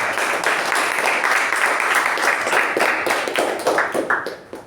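An audience at a Toastmasters meeting claps steadily in a dense patter of applause that fades out toward the end.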